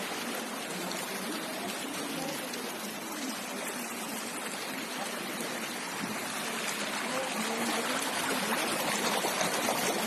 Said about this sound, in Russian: Вот по улице идет такая вода, наш дом топит.